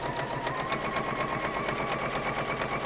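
A sewing machine runs without pause while stitching quilt strip pairs in a workshop, making a fast, even, rhythmic clatter that is loud and close.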